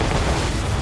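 Cannon fire from ships in an ambush battle in Assassin's Creed Rogue, a dense rumbling barrage of booms filling the whole moment, loud and continuous with no gaps.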